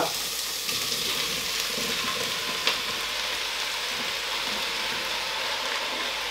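Zucchini frying with golden-browned onions in a pan, a loud, continuous close sizzle holding steady throughout, broken only by one brief click partway through.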